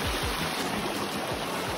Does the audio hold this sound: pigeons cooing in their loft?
no